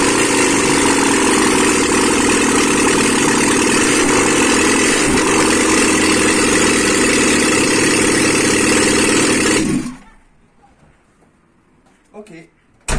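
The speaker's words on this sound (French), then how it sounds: "Donc on va pouvoir tenter un démarrage." A Peugeot 106 Roland Garros petrol engine runs loud and steady at idle after being started, close by, then cuts off sharply, leaving near silence with a few faint knocks.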